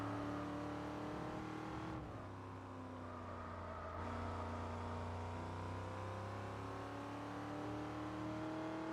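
The racing engine of an Audi R8 race car in Gran Turismo 4 drones with a steady, sustained hum, its pitch shifting slightly partway through, quiet and with no one speaking.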